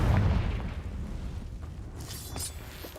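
A Confringo blasting spell explodes in Hogwarts Legacy, opening with a loud low boom that rumbles and decays over a few seconds, followed by faint crackling debris.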